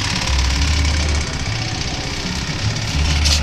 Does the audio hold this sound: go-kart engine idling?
yes